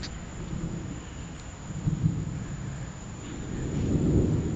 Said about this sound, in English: This is one lightning storm.